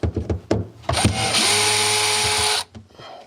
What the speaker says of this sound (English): the last bit of prep work is to take these two screws out of the bottom here